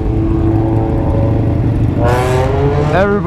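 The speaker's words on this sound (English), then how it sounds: "Rev bomb every tunnel." Motorcycle engine on a night ride, droning steadily, then sharply revved twice near the end with rising pitch, loud and close against constant wind and road roar.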